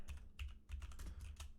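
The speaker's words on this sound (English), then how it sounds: "I'm typing with one hand here" One-handed typing on a computer keyboard, a quick run of close, crisp key clicks in small bursts with a brief pause partway through.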